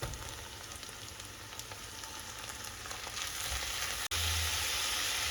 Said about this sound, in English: you are just going to also brown the mince until it has a slight brown color